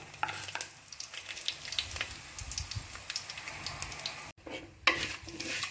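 Chana dal, fennel seeds, cinnamon and chillies fry in oil in a pan, giving a soft crackling sizzle with light stirring scrapes, close and fairly quiet.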